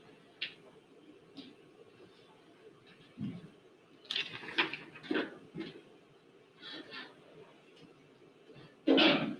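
A sneeze bursts out near the end after a few scattered coughs and throat noises in a quiet classroom during a math lesson, the final burst loud and close.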